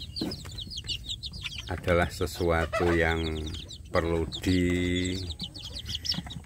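Native chicks in a brooding box chirp and cluck in bursts while someone talks nearby throughout.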